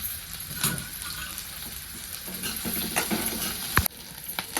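Onion, green chili and garlic roasting and crackling in a pan on the stove, with steady close sizzling, occasional stirring scrapes and a sharp clink near the end.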